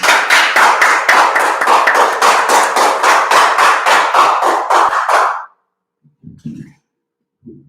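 Group clapping at a Tuesday brotherhood class in Durham, North Carolina, loud and close, steady rhythmic claps for about five seconds, then stopping into near silence with a few faint sounds.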